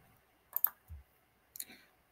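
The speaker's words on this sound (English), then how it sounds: "I just click next" Computer mouse clicking, two quick pairs of sharp close clicks separated by a short pause, each followed by a faint soft thud, in an otherwise quiet room.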